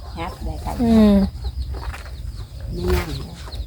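Chickens cluck loudly and close by, a few drawn-out calls over a noisy outdoor background.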